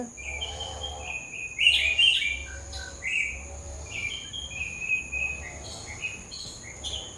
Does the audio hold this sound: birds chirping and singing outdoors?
yes